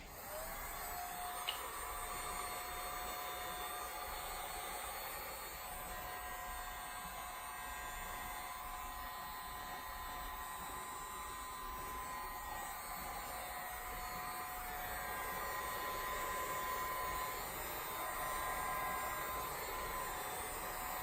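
A heat gun blows a steady, even whir of hot air while warming a door sill protector film on a Honda Accord, holding a continuous low-level drone throughout.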